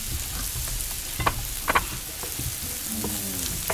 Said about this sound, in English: it's been sauteing for a couple minutes